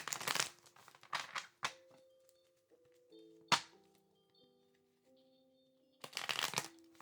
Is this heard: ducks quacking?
no